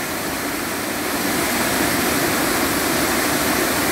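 The Cachoeira das Araras waterfall in Vilhena, Rondônia, Brazil roars in a steady, dense rush of noise, loud and close, with no voices over it.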